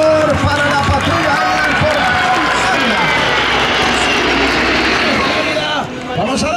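Patrulla Águila jets flying in formation at the Festa al Cel air show at Lleida Alguaire airport, a loud continuous engine roar beneath a loudspeaker commentator's voice.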